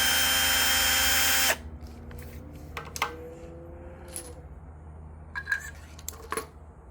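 A power tool whirs loudly for about a second and a half while backing out the shaft-rocker bolts on an LS engine, then stops, followed by scattered light metallic clinks and taps of parts being handled nearby.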